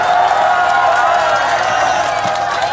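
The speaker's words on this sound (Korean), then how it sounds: "큰 박수 부탁드리겠습니다" A crowd at an outdoor election rally for the Gangseo district mayor by-election claps loudly and cheers, a continuous roar of hands and voices with whoops mixed in.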